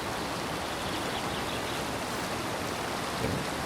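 Water flows and falls over smooth laterite rock at a hidden spot near Varkala, making a constant, even rushing hiss at moderate loudness with no voices.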